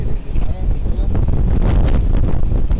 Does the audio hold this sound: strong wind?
yes